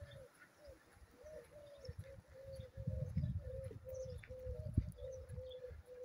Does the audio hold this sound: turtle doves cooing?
yes